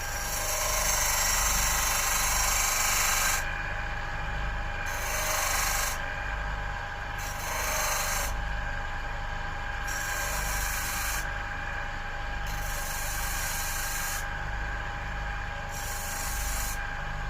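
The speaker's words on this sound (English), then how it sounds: "head over to the sander, again the disc sander, and sand this off" A disc sander grinds continuously on DIY isolation feet with a harsh rasping whine, its pitch and intensity rising and falling in repeated passes, with no talking.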